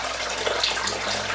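Water drains steadily out of a papermaking mould and screen after a scoop of floating paper fibre, a soft continuous trickling and splashing at close range with no talk.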